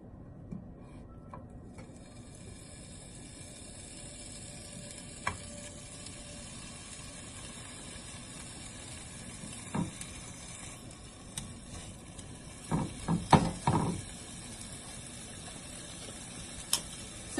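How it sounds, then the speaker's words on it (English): Hog jowl, the cheek cut, frying in a pan, giving a steady low sizzle throughout with scattered soft pops and ticks, denser crackling bursts near the end. "So we're frying it up."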